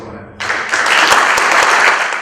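An audience at an arbitration congress breaks into sustained applause after closing remarks, the clapping swelling quickly and holding full and steady to the end.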